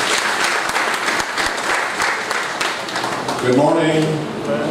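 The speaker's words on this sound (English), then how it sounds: "Another round of applause for our director, Paul." Sustained applause from a symposium audience for the director fills the hall with dense, even clapping, and a voice begins speaking over it near the end.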